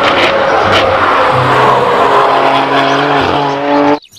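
A toy race car gives off a steady, loud engine-like revving drone with shifting pitch for about four seconds, then cuts off abruptly at the end.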